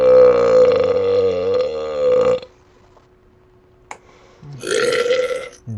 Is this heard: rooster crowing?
no